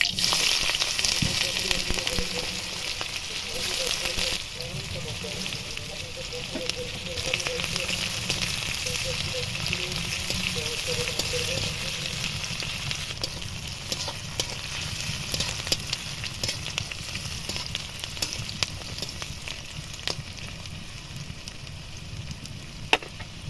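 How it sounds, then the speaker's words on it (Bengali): Chopped onion frying in hot oil in a kadai with panch phoron and bay leaf, a steady continuous sizzle with small crackles and occasional stirring scrapes throughout. "পেঁয়াজটা হালকা ভাজা হয়ে গেছে।"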